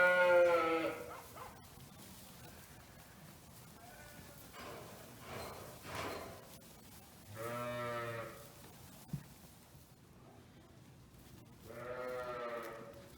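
Lambs on a farm bleat in several separate calls, some louder and nearer, others fainter, spread across a quiet background with a few soft knocks.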